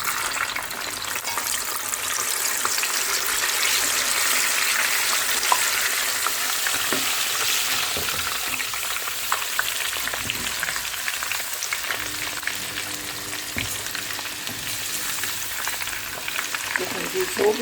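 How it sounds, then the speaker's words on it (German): Dal namkeen sizzles steadily as it fries in hot oil, a continuous close crackle with occasional stirring scrapes and clinks, heard alone without talking. "Und so wir unsere alle braten."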